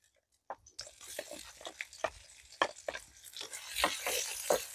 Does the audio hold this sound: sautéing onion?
yes